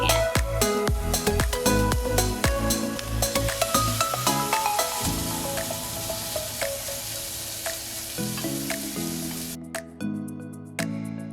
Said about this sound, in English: Add in the shrimp and make sure to spread the shrimp in the pan.